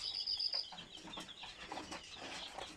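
Chickens cluck and stir inside a hot vehicle in a dense, continuous jumble of calls, moderately near.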